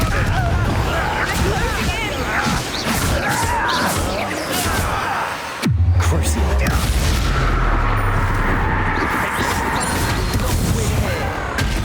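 A Confringo fire spell explodes during a Hogwarts Legacy battle on Nintendo Switch: dense, continuous combat noise with a deep, loud boom near the middle, followed by rumbling low blasts and crashing effects.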